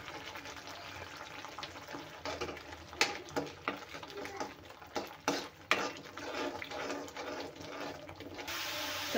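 Whole spices and turmeric sizzle and crackle in hot oil in a pan, a steady bright frying hiss broken by sharp stirring scrapes and clatters, close and fairly loud.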